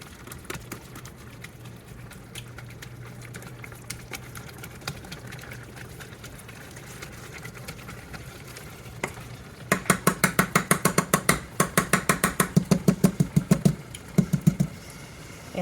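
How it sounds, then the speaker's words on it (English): A mixture being whisked by hand, heard as a quiet soft stir at first, then a fast, steady run of sharp rhythmic ticks from the whisk against the bowl for the last several seconds. "Just gonna mix that up and whisk it."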